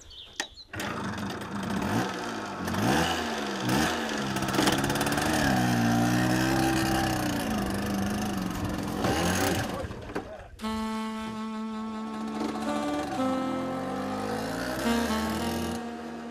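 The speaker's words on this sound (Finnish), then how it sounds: "tässä vaan mopolla mennään sitten." A moped engine runs steadily throughout a ride, its drone rising and falling with throttle changes, loud and close, with a shift in tone partway through.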